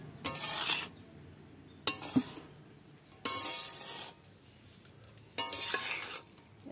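Egg biryani is stirred and mixed in a pan. Four distinct bursts of scraping and mixing strokes stand out against a faint background sizzle, each about a second long with short pauses between, with no talking.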